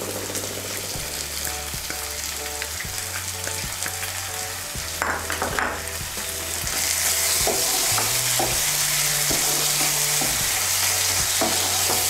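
Green chili paste fries in a pan with a continuous sizzle and intermittent scraping stirs, growing louder and more crackly in the second half, with no voices.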